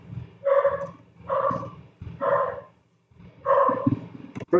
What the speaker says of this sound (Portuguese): Estou escutando o cachorro aí.